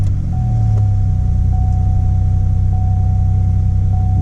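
A GM 3.8 engine fires up after a throttle body cleaning, then settles into a steady, loud, low idle rumble with no stalling.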